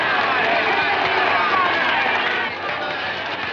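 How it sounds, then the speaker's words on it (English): Large crowd murmuring and buzzing before a travelling road show with a lion act, a dense steady babble of many voices with scattered shouts, loud and continuous, easing slightly near the end. "What a crowd."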